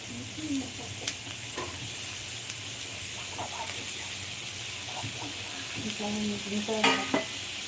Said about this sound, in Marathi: हे सगळं व्यवस्थित भाजून घ्या जास्त भाजायचं नाही